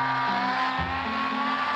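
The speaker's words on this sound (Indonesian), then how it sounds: "Boleh Ipin, motor ini cepat kali ini." A fast motorbike in an Upin Ipin cartoon rides toward Candi Borobudur. Its engine hums steadily and close for a moment, and the pitch steps down partway through. No one speaks.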